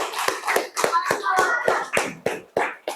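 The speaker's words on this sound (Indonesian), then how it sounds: "Mari kita tepuk tangan untuk keyakinan kelas kita." A school class claps together in rhythmic unison, about ten loud, close claps in quick succession over three seconds, with children's voices faintly under the beat.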